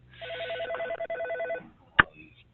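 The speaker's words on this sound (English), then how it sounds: "I can hear someone's phone ringing." A telephone rings in repeated bursts of electronic trills for about a second and a half on an online meeting call, followed by silence and a short sharp click.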